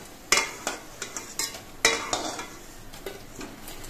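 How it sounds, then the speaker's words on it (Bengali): Freshly fried small-shrimp fritters being lifted out of a hot pan on a gas stove, with a series of sharp metal scrapes and clinks over a faint fading sizzle, fairly close. "এবার গ্যাসটা অফ করে দিচ্ছি আর পকোড়াগুলো নামিয়ে নিচ্ছি।"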